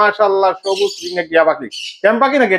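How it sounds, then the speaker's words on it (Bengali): Green ringneck parrots kept in a home bird collection let out harsh, harmonic squawks in quick bursts, close and loud, with short pauses between calls. "আজকে চলে আসলাম দীপু ভাইয়ের সুন্দর পাখিগুলা দেখার জন্য"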